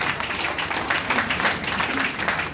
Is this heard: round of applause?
yes